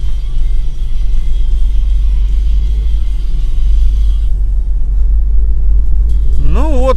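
A UAZ with an automatic transmission drives through deep snow, its engine a steady loud low rumble throughout, with a rising whine of revving near the end.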